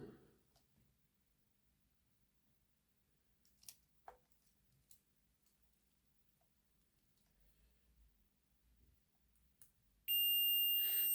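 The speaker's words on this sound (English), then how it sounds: "we'll just do a wee continuity test" A multimeter continuity beep on the wiring of a Hornby R.859 Black 5 model locomotive, a loud steady electronic tone sounding near the end after a few faint clicks and handling taps in a quiet room.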